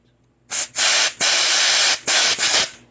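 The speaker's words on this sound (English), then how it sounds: "blow off all the loose stuff, blow away all the junk that came off the carburetor." Compressed air blasting debris off a Toro lawn mower carburetor in four loud, close bursts of hissing spray separated by brief pauses.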